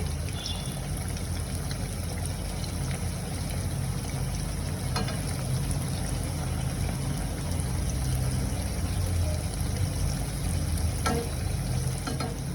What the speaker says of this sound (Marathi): हळूहळू करून मी सगळ्या बाजूने याला चांगलं फ्राय करून घेते